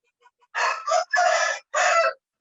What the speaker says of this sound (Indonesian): Jadi kalau ada suara-suara ayam, mohon maaf Bapak Ibu sekalian.